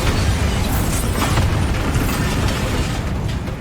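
Bombarda spell explosions in the video game Hogwarts Legacy, a dense, loud, continuous roar of blasts and rumbling debris with bright crackling bursts layered over heavy low-end booms throughout.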